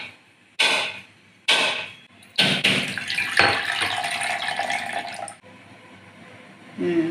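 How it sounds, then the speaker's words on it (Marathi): A round coconut cracked open by hand while making modak, several sharp separate knocks followed by a longer splashing rush, then a quieter stretch. "आपल्याला छान गोल नारळ फोडून दिलाय"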